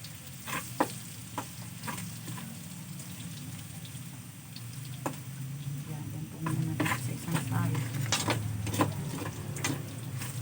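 Garlic and onion sizzle and get stirred in a pan of oil already used to fry fish balls for Bicol-style pancit, a steady sizzle with scattered scraping taps, moderately near.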